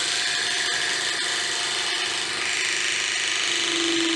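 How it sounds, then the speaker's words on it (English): A hydraulic crimping tool presses a cable lug onto an electrical cable, producing a steady, loud mechanical whine and hum that holds for about four seconds with a slight rise near the end and no talking. "Now I'm going to crimp this."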